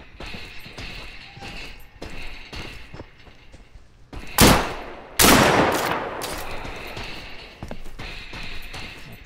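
Automatic gunfire from the video game Deadside: two loud, sharp bursts stand out midway, preceded and followed by softer scattered shots and background game ambience.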